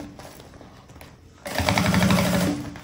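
A sewing machine starts up abruptly and runs in a fast, loud, rapid stitching burst for about a second while closing a puffer thermal bag, then eases off, with quieter room sound before it.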